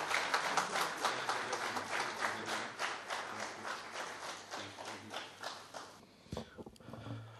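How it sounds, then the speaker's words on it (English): A community gratitude evening audience gives steady rhythmic applause that swells and gradually thins, then stops near the end, followed by a few scattered thumps and handling noises. "a big round of applause"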